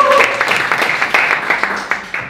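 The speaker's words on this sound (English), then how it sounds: "So please also a little clap for them." Audience clapping at a startup meetup in Bratislava, a steady patter of many hands with sharper individual claps, moderately loud and sustained throughout.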